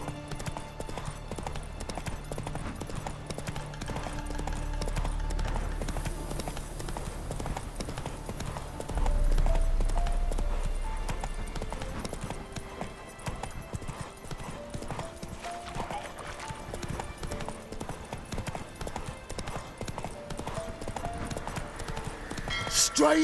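Roach, the horse in The Witcher 3, gallops with loud, rapid, continuous hoofbeats lasting throughout, layered over game music and other ambience, with voices speaking at times.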